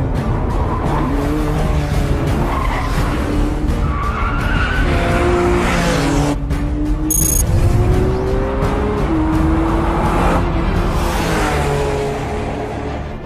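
A Porsche 911 with its engine in the back revs hard toward the red line. The loud, steady roar runs unbroken for about thirteen seconds, rising in pitch across several quick gear changes, with a hint of tyre noise and no voices.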